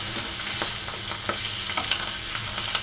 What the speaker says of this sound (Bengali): এই যে এখানে মাছটা ভেজে নিচ্ছি, পাবদা মাছ।